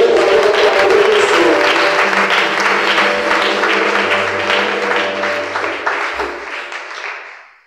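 A church congregation claps loudly and steadily, the applause slowly thinning and fading away toward the end.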